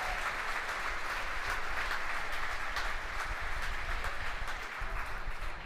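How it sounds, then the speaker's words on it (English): A SpaceX team at Mission Control in Hawthorne claps in sustained applause, a dense patter of many hands heard somewhat distantly. "You hear the applause from the team gathered around Mission Control Center here in Hawthorne."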